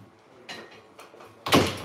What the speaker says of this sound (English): I have to shut the doors to my craft room